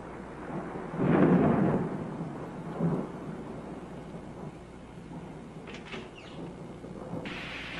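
Rain falling steadily with a heavy roll of thunder near the start and a second, smaller rumble soon after, then the downpour continues alone.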